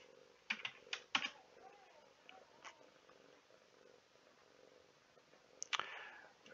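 Keys are tapped on a computer keyboard in short uneven bursts of clicks near the start and again at the end, with quiet room noise between and a faint purr-like murmur in the background.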